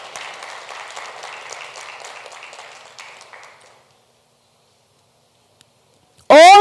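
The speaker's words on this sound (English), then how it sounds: "Let us give Gingerland Secondary School a round of applause." Audience at a youth tourism congress applauding a winning secondary school, a burst of many hands clapping that fades out after a few seconds into silence, followed by a sudden loud electronic tone at the end.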